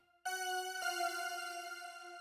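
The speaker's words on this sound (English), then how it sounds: "the purple key bells," A purple key bells synth patch in Logic Pro rings out with a bright, shimmering bell tone struck a few times, each note sustaining long and clear with no voices.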